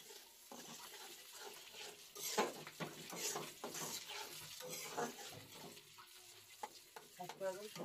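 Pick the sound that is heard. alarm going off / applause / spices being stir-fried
spices being stir-fried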